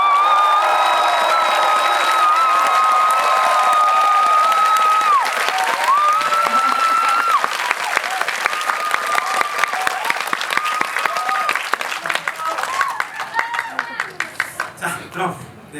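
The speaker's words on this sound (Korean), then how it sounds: "함성과 박수 한번 부탁드립니다" A cinema audience at a film screening Q&A for the Korean film 'Hunt' at COEX cheers and shouts loudly, then breaks into sustained dense applause that gradually thins out, with voices mixed in throughout.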